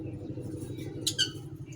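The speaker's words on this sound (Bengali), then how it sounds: "এই যে লাভ বার্ড দুইটা দেখেন, অনেকদিন পর ওদের শাক দিছি" Two pet lovebirds in a small aviary loft chatter with a couple of brief, sharp squawks while nibbling leafy greens, over a low steady background hum.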